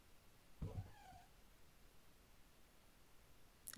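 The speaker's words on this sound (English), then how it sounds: "She doesn't meow properly, she just meeps." A cat gives one short, faint meep, close by in a quiet room, followed by near silence.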